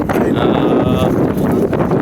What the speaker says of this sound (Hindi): हवा की वजह से भाई बहुत तेज़ हवा है।